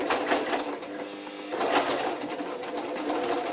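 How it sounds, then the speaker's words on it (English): A sewing machine fitted with a hemming foot stitches fabric in a steady, close mechanical whir that runs without pause, briefly easing in pitch midway before picking up again, with no talking. "put the fabric down, ask the machine to sew"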